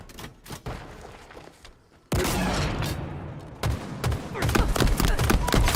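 Halo Infinite combat with rapid bursts of gunfire, quiet scattered shots at first, then loud sustained automatic fire with heavy thumps and booms layered over it.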